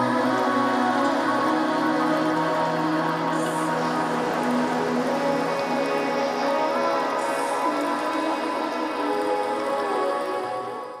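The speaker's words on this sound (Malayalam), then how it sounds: "നമ്മൾ മഴയത്ത് കുടുങ്ങി ഗൈസ്." Rain falling steadily at an outdoor park, a dense continuous patter on surfaces that holds even throughout and tapers slightly at the end.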